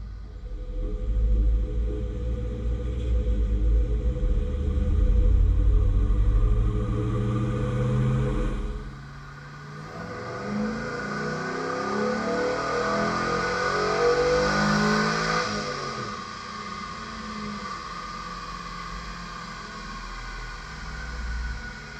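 A Chevrolet Silverado vortecMAX V8 with a new cam runs on a dyno, its engine note swelling through a long rev, dropping briefly, then climbing again into a sustained loud roar.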